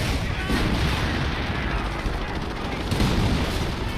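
Dense, continuous artillery and gunfire rumble in the WWII-style video game Operation Fidelio, a steady barrage of booms and cracks filling the whole stretch with no clear gaps.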